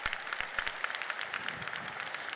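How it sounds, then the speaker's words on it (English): A graduating class applauds at a school graduation ceremony, sparse and scattered handclaps popping at moderate distance, thinning out over a couple of seconds with no one speaking. "Give yourselves a round of applause."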